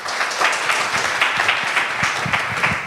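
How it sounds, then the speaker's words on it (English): A round of applause from a live comedy audience, dense and steady clapping from many people filling the room, close and fairly loud with uneven individual claps popping through. "So can we give him a round of applause for coming up?"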